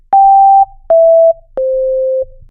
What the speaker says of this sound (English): it's just a sine wave generator